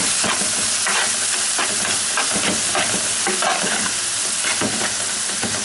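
Minced meat with cardamom, Maggi cubes, salt, pepper and cumin sizzles and fries steadily in a pan, with occasional stirring scrapes cutting through the continuous close hiss.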